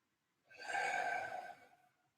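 One soft, sighing exhale comes during a yoga stretch for the upper back, a close breathy breath lasting about a second with a faint voiced tone, alone in a quiet room.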